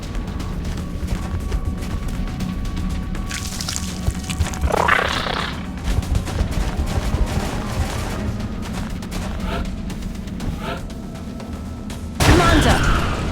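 Gunfire in the turn-based strategy game XCOM: Enemy Unknown, with short bursts of shots over a steady low game ambience, one mid-clip volley and a louder, sharper burst near the end.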